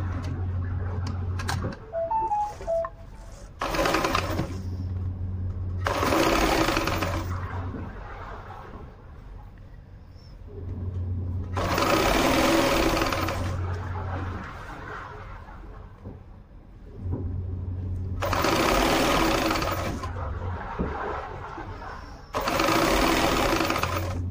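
A sewing machine stitches elastic onto sportswear fabric in several loud, steady bursts of rapid needle chatter over a low motor hum, separated by short pauses of quieter handling.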